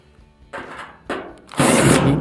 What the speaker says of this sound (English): now we can just start screwing all of our screws in around the perimeter